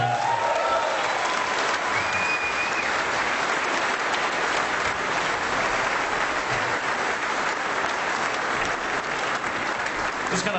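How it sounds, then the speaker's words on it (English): Audience at a snooker grand final applauding, a dense, sustained wall of clapping from a full crowd that stays loud and even throughout. "Another round of applause, I think."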